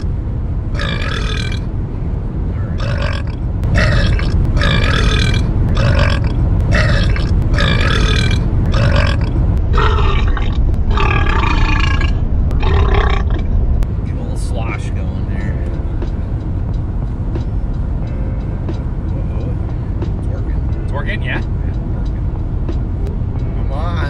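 A man lets out a long series of loud, drawn-out burps in quick succession during a burping contest, each a throaty belch with short gaps, then talk continues beneath a low background hum.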